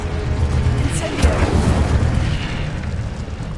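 An Incendio fire spell in a Harry Potter video game bursts out as a loud, dense whooshing roar with a booming low rumble, sustained for a few seconds and close up.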